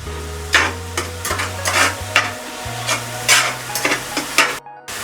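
Ground beef and onions sizzling in a pan for sloppy joes, with steady frying crackle broken by repeated scraping stirs, close and fairly loud with no talking.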